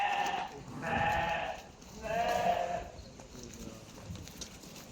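Male lambs of the Tatalı breed bleat in a pen, two loud drawn-out calls followed by fainter ones, with light shuffling between them.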